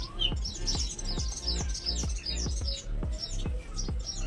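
House sparrows chirp repeatedly around a home, a lively run of short bright calls in quick succession, fairly close and clear with no speech.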